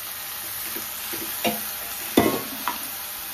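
Snake gourd pieces are stirred into a chana dal tempering in a pan: a few sparse spatula scrapes and clatters, two of them louder, over a faint background sizzle, with no talking.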